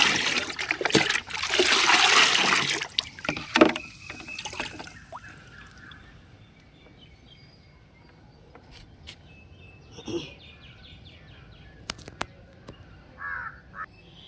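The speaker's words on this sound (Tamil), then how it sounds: "இந்த பக்கெட்லேயும் நல்லா கலந்து விட்டுக்கலாம்" Homemade liquid fertilizer, mentioned as containing aloe vera, is stirred in a bucket, producing a few seconds of sloshing, trickling water up close, then quieter drips and faint stirring with a crow cawing in the background.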